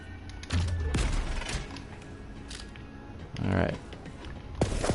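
Weapon fire in Borderlands 3 from a TDR gun launching missiles, a few heavy whooshing blasts and thuds spaced apart, moderately loud under occasional talk.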